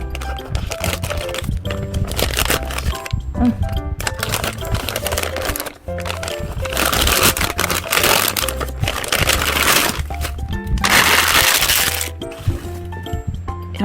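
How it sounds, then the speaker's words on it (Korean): Scissors cutting open the packaging of a delivered parcel, with dense, crackling snips and rustling plastic that run on and off at close range. A few brief spoken words come through. "가위를 써보겠습니다"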